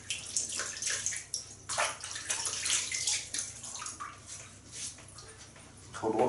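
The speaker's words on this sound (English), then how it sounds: "splash the old face" Cold water from a tap splashes onto a face over a running basin, with close, irregular bursts of splashing and dripping across several seconds and no talking.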